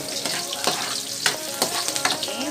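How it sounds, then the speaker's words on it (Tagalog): Garlic sautéing in hot oil, a steady close sizzle and crackle with occasional stirring scrapes, no talking. "We will saute garlic until brown."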